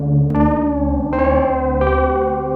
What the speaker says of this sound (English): All still going through that nice noisy sound where the noise is basically magnified with every feedback